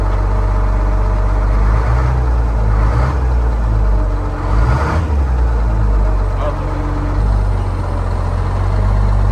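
A retired fire truck's engine idles with a deep, steady rumble up close while it is shifted into reverse, the low drone continuous as people talk briefly nearby.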